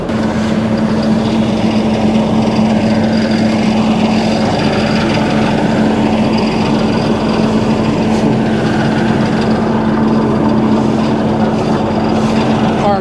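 A tractor engine in the video game How to Tractor drones steadily and loudly with a constant low hum, running without pause and with no voices.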